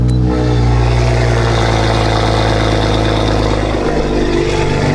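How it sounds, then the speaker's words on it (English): A sports car with a B58 engine and an aftermarket intake revs hard and close, its loud engine roar holding steady before a brief dip near the end, with no talking. "this car looks absolutely ridiculous, but it sounds ridiculous because we have that intake"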